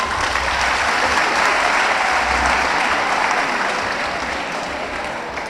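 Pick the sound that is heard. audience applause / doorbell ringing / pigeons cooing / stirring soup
audience applause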